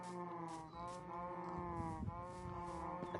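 Cattle lowing continuously at close range, long droning moos layered over one another with a steady rumble of a herd around them.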